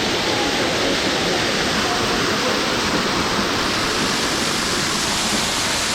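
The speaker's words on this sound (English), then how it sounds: "Katika Waterfalls." Katiki Waterfalls in Araku roar with a constant, loud rush of falling water, a dense broadband wash that stays steady and close throughout with no voices heard.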